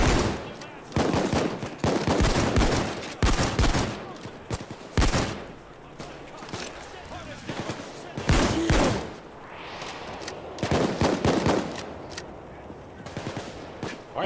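Rapid bursts of gunfire from a PAYDAY 2 heist firefight, sharp repeated volleys in quick clusters with brief pauses between, loud and close, with a voice speaking over parts of the shooting.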